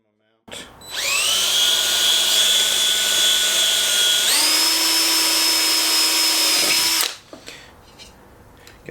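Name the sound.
power drill drilling pilot holes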